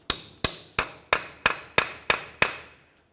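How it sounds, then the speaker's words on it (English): Hammer driving a punch into the center of a 2004-2015 Nissan Titan front axle to free it from the wheel bearing: eight sharp metallic strikes at a steady rhythm, close and ringing briefly after each blow. "continue on with a hammer and punch"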